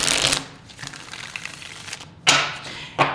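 Tarot cards being riffled in a deck during a Taurus reading, a dense papery burst at the start, a quieter rustling stretch, then two more short sharp riffles near the end, close and alone with no talking.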